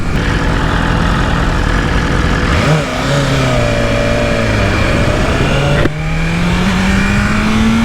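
A car engine screams up through the revs toward an 8,000 RPM rev limiter, loud and close, with steady high-pitched rising tones, brief dips between pulls and a sharp jump in pitch near the end.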